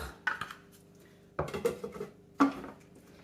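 Lid being fitted onto the bowl of a Thermomix-style kitchen machine, three separate bursts of close clacking and rattling as plastic parts knock and lock together, with quiet gaps between them.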